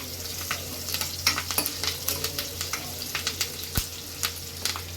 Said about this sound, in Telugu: ఉల్లిగడ్డ, కరివేపాకు, తాలింపు గింజలు వేసానండి.